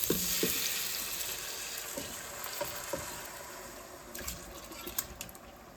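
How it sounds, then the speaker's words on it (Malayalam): Chicken pieces fry in a pan for a Kerala-style dish with a soft, continuous sizzle, while occasional stirring clinks and scrapes get a little busier toward the end. "ഇനി നമ്മൾ ചിക്കൻ ഇടാണേ. ഇതിപ്പോ ജസ്റ്റ് ഒന്ന് മിക്സ് ചെയ്തിട്ട്,"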